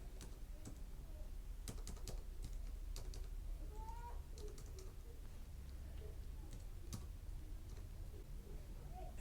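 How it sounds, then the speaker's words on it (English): Someone types on a computer keyboard while working in a design tool: light, quiet key clicks in scattered bursts over a constant low background hum. "I'm just going to type some zeros and ones in here."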